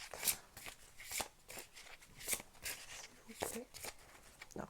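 Cards riffle and slide as one is drawn from a deck during a romantic guidance card reading for singles, several close crisp shuffling bursts with brief snaps, under faint background speech.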